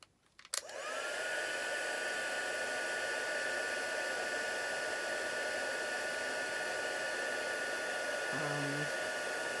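A heat embossing tool blows hot air over a card, starting abruptly with a steady, close, whooshing hum that holds evenly to the end with no talking.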